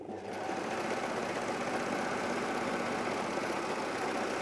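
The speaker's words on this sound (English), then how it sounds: "we're going to sew up the crotch inseam" A sewing machine runs in one steady, fast burst while stitching the crotch inseam of a pair of shorts, a close, even whirring rattle with no voices.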